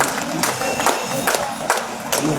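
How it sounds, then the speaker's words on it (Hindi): An award ceremony audience in Ranchi rises to applaud a state topper, and the clapping and cheering of a crowd rolls on steadily in uneven bursts. "सभी लोग खड़े होकर तालियों से समाप्त करें।"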